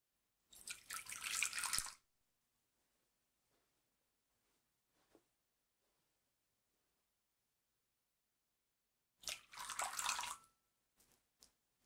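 Water poured into a shared bowl at a Godly Play gathering: two separate bursts of pouring and splashing about eight seconds apart, with a few faint drips between them in an otherwise quiet room.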